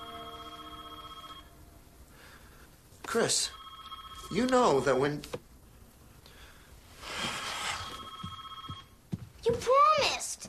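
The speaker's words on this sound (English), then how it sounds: "The phone is ringing." A telephone rings in repeated bursts, moderately loud, alternating with people talking over and between the rings.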